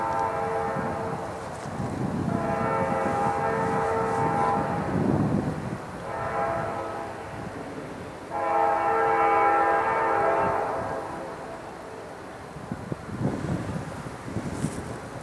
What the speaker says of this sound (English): Train 19's coming at a pretty good click.